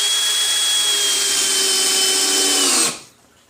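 A power drill whines at a steady high pitch while countersinking a screw into a wooden planter box, held for nearly three seconds before the motor winds down and stops abruptly.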